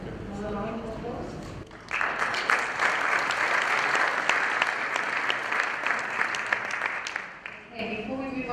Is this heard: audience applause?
yes